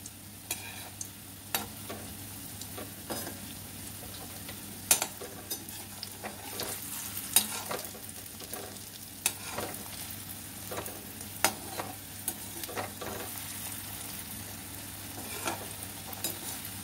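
Jackfruit koftas frying in hot oil on a low simmer, a steady soft sizzle with scattered sharp spits and pops and occasional light utensil clicks, close and continuous with no talking.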